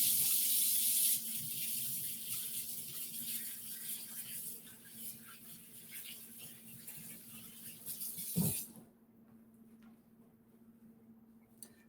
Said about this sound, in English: I'm going to wash my hands one more time before I form them into balls